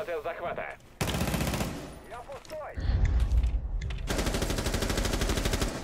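Sustained automatic gunfire in the tactical shooter Rainbow Six Siege, loud rapid bursts that roll on almost without a break alongside game booms, while players talk excitedly over the shooting.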